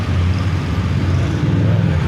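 Congested road traffic on a busy street in Cigeneng, a steady low engine rumble from nearby cars and motor vehicles with a constant drone throughout.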